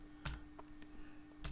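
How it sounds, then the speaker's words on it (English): Typing on a computer keyboard, a few brief quiet key clicks spaced unevenly over a faint steady background hum, no talking. "So let's just type it here bit by bit."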